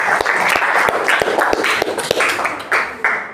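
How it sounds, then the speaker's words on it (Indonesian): A group claps at a teacher-certification gathering at an Indonesian Islamic university, with sharp, uneven claps and a brief swell of voices mixed in. "Tepuk tangan buat kita semua."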